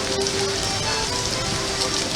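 Heavy rain pours down steadily on a street at Epcot in Walt Disney World, a loud, dense, continuous hiss with no break across the moment.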